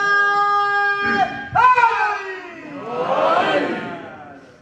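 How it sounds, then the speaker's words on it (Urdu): Women in the audience of a majlis mourning gathering raise a loud collective chant after a preacher's voice, the voices swelling together in a single rousing burst before fading. "وہ کم از کم نعرے لگا رہی ہے"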